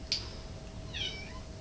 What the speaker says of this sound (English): This is my kitten.